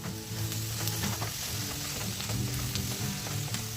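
Chicken and cauliflower fry in a pan with garlic and black pepper, giving a steady close sizzle with light stirring clatter throughout.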